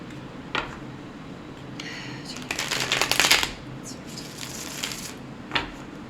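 Tarot cards being shuffled up close, with a dense riffling burst in the middle and single soft card flicks before and after; fairly loud, with no talk over it.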